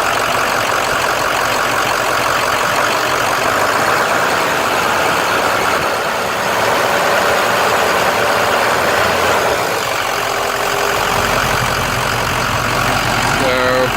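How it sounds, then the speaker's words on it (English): A Ford truck engine runs loud and close in a service setting, with a steady idle that builds to higher revs and then drops back, while people talk over it. "I'm going to have them rev it up a little bit"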